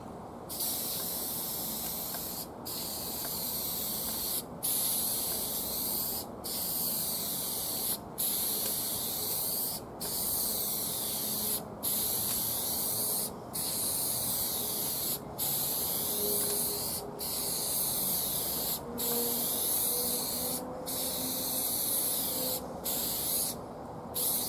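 Shellac sprayed onto a bass guitar body in a series of repeated hissing bursts, each a few seconds long and broken by short pauses, fairly close and with no talking.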